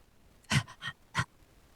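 A person imitates a dog with three short, breathy panting huffs, close and fairly loud, spaced unevenly over about a second with quiet between them.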